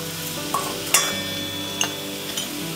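A spoon scrapes and stirs through dumur (fig) curry with grated coconut, sugar and garam masala frying in a pan. A few distinct scraping strokes sound close over a steady, soft sizzle.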